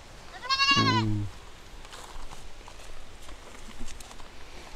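A goat on a farm gives one loud, close, wavering bleat, followed by quiet farmyard background with faint rustles and knocks.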